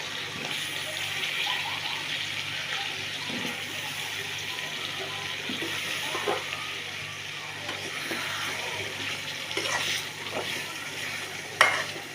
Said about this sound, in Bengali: এখানে ফুলকপি আলুটা কষায় নিছি।